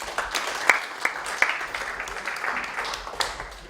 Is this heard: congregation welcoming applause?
yes